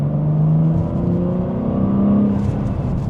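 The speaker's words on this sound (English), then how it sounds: "I have it in second gear. We'll give it a minor acceleration." 2025 BMW M4 with manual transmission pulling in second gear under light throttle, a close, steady engine drone rising gently in pitch and loudness over a few seconds, with no talking.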